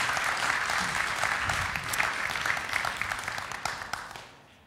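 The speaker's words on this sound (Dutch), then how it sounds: "Maar ik wil natuurlijk eerst een hartelijk applaus voor Elise van Wenen" Hearty audience applause at a Dutch late-night technology and education talk show, a dense steady wash of many hands clapping throughout that fades out at the end.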